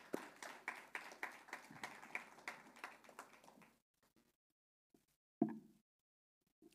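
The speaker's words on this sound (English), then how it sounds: "Join me in applauding them." An audience at a public lecture on disability claps in a sparse, uneven burst of hand strikes for about four seconds, then fades to near silence broken by a single louder thump.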